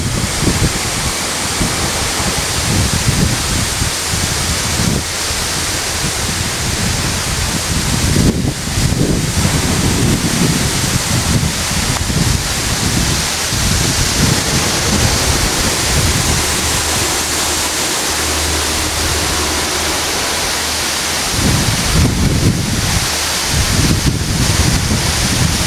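Waterfall at a lake near Çatalağaç village, a loud continuous rush of falling water with heavy wind buffeting the microphone in gusts, no voices.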